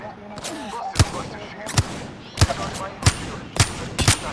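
Gunshots from a shooter video game crack out in sharp single bursts, about seven evenly spaced shots, loud and close over a low background murmur.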